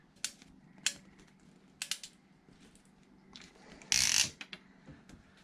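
Sharp clicks and snaps of a clamp being fitted onto a half-inch PEX pipe 90-degree elbow, a few separate taps followed by a brief louder crunch of the crimp, close and otherwise quiet.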